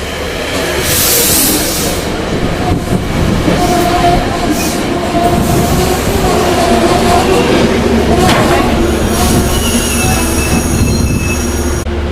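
A Metro-North train pulls into Cold Spring station, with a steady rumble of wheels on rails, intermittent high wheel squeal, and clicking joints over about twelve seconds, close and loud, with faint voices underneath.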